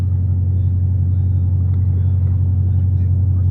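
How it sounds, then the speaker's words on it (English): A BMW car pulls up close behind, heard as a steady low engine rumble throughout, near and fairly loud. "Like look at that BMW that's pulling up."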